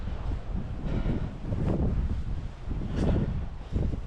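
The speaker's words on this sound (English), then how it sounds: "Oh, the wind." Strong wind buffets the microphone outdoors in Shetland, a loud continuous roar with gusting surges and no talking.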